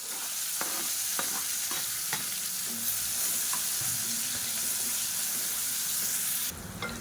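Finely chopped small onions fry in hot oil with chili and asafoetida for sambar, giving a loud, dense, continuous sizzle up close with a few scraping stirs early on and no talking.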